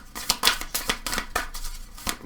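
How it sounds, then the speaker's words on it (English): A deck of trading cards is shuffled by hand, giving a rapid series of crisp papery riffles and snaps at an uneven rhythm, close and fairly loud, with no talking. "A little shuffle here."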